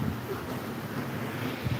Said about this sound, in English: So windy, it's about to blow.